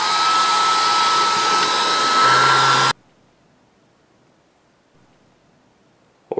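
A hair dryer blows steadily and loudly for about three seconds while heating Wonder Flex thermoplastic for a costume belt, then cuts off abruptly, leaving near silence.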